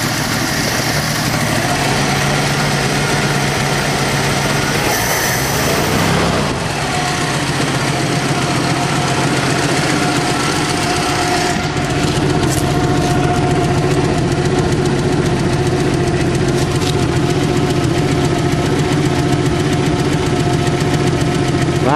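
A Ford Fairmont engine runs steadily on very old fuel, a loud, close idle with a rough, knocking edge that continues throughout without talk.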